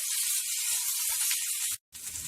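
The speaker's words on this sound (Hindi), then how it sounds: "फ्लेम को हाई कर दें, यानी फ्लेम को हाई पे रख दें और इसे भी भून लेते हैं" Three medium chopped tomatoes hit a hot pan over a high flame, giving a loud, dense hiss of sizzling that runs steadily, breaks off briefly near the end, then returns fainter.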